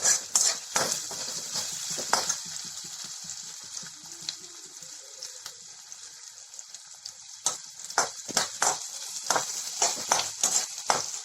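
Onions sautéing in a pan for a cauliflower, peas and potato masala give a steady close sizzle, overlaid by frequent sharp scrapes and clicks of a spoon stirring against the pan, busiest at the start and end.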